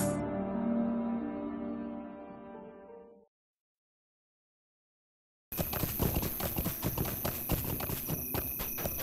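Horse hooves clip-clop in a steady rhythm in the Lord of the Rings Online video game, after a stretch of music and a few seconds of silence.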